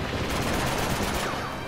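Dense rapid gunfire from Uncharted 2: Among Thieves, a loud continuous burst of overlapping shots filling the whole moment.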